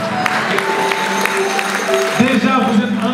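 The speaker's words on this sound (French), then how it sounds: "vous êtes en train de les applaudir avant que je le demande" Applause from a concert audience at a theatre in Senegal, a steady wash of clapping that runs the whole time beneath a voice speaking.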